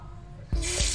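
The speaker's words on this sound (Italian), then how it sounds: "io adesso vado a fargli fare un giro d'acqua" Lukewarm water suddenly gushes through the inner channel of a Folletto 220 vacuum cleaner, a loud hissing rush that starts halfway through the short clip after a quiet hum.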